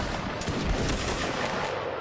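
A musket volley crashes out in the Napoleonic Wars video game during a linebattle. One sharp broadband blast rolls over a noisy field of distant shots and faint voices.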